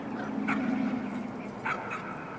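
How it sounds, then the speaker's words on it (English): Cartoonish dogs from the VR game Trover Saves the Universe whimper and yip in short bursts over a steady game-world hum, fairly close and moderately loud. "What's up, puppies?"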